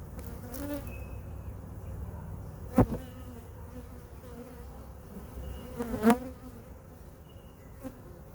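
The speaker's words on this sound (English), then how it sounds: "oh, sorry, bees" Honeybees buzz steadily around nuc hives being installed, a close continuous hum with a couple of sharp knocks from the equipment cutting through.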